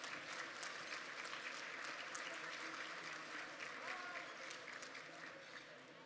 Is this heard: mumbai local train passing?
no